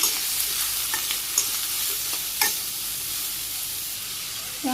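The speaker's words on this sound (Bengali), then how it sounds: "পরিমাণ মতো লবণ হলুদের গুঁড়া শুকনো মরিচের গুঁড়া মেরে ভাজি করে নিই" Vegetables frying with salt, turmeric and dried chili powder in a village kitchen, a continuous close sizzle broken by a few sharp stirring scrapes, with no voices.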